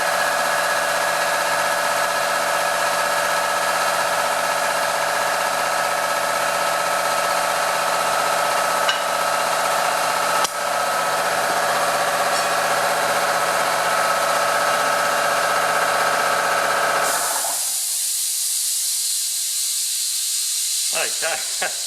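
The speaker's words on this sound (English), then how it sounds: "excuse the compressor noise, you sort of can't have the air without that happening" A steady, loud air compressor drones with a broad hiss and hum for about seventeen seconds, then cuts off abruptly, leaving near silence with faint brief sounds near the end.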